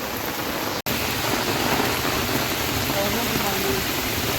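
Heavy cyclone rain (Cyclone Remal) pours down at a river in a dense, continuous hiss, with low rumbling underneath suggesting distant thunder.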